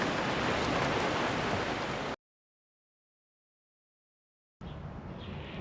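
Steady, dense rain falling outdoors, hissing broadly, cut off abruptly into total silence before the downpour resumes.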